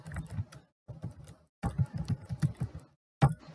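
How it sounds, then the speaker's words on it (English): Bursts of clicky keystrokes on a computer keyboard, close and crisp, in several quick runs separated by short silent pauses. "then type npm start."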